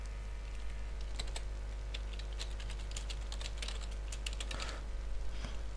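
Irregular bursts of quick, light clacks come from a computer keyboard as text is typed, with brief pauses between runs over a steady low hum.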